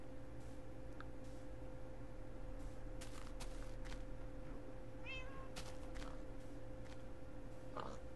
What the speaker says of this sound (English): This would actually be my very first cat in the game.